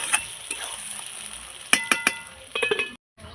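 Goat meat fried and stirred in a pan for a red curry, with soft sizzling under sharp clinks of a spoon against the pan, several close taps in bursts, then a brief silence.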